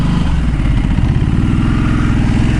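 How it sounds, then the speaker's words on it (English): Ducati Multistrada 1200 motorcycle engine pulling hard under acceleration, a loud, steady rumbling growl with dense firing pulses throughout, close to the rider, no voices. "The strong pull of the 1200 Multistrada Ducati."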